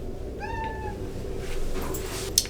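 A cat gives a single drawn-out meow from behind a bathroom door, slightly muffled and distant, over quiet room noise, followed by a faint knock.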